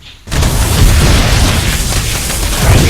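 A StarCraft building blows up with a loud, deep boom that fills the whole clip as a sustained rumbling blast after a brief quiet start.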